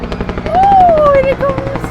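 A Vietnam War-era Huey helicopter comes in to land, its low rotor thump steady and fairly close, with a rising whine and people talking in the background.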